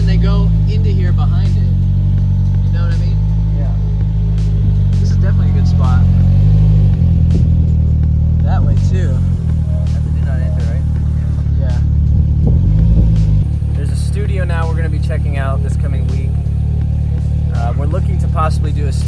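A low, steady engine rumble drones underneath throughout while people talk over it nearby.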